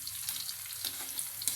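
Onions sizzle and fry steadily in a pan for a sweet and sour sauce, a continuous broadband hiss with small crackling pops, fairly quiet and close, with no talking.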